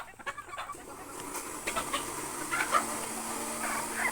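Local chickens cluck and murmur in irregular, soft bursts, several birds calling nearby across a quiet farmyard, with no talking.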